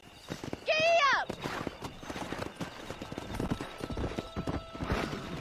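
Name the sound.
horse riding in video game Red Dead Redemption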